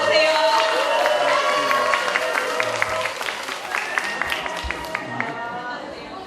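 Audience at a university student forum clapping to welcome a guest speaker: a burst of dense, fairly close applause from a roomful of people that slowly thins and tapers over several seconds, with scattered individual claps near the end.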